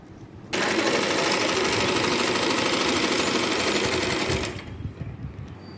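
A sewing machine runs steadily for about four seconds, putting a top seam right along the edge of a nightie neckline, then stops abruptly and leaves quiet room noise.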